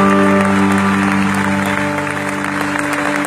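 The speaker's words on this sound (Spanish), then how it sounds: "Dale un fuerte aplauso a Él." Loud applause from a church congregation during a worship service, steady and sustained across the clip, with musical tones from instruments held underneath.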